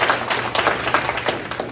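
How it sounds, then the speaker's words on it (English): Scattered clapping from an audience at a Detroit mayoral campaign forum, a modest round of hand claps with uneven rhythm, fairly close and continuous for a couple of seconds. "let's give them a round of applause"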